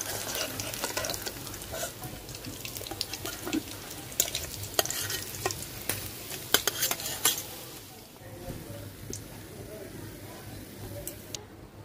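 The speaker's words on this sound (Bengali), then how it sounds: "মাছ ভাজার তেলেই আলু ভাজা নেব।" Potato strips frying in the oil left from frying rui fish in a home kitchen, a steady soft sizzle with clinks of utensils and stirring, the crackle easing near the end.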